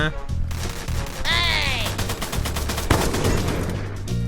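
An M60 machine gun firing in a video game, fast rhythmic bursts of close, loud shots in quick succession, mixed with a rising whistling game effect and a crash, over game sounds.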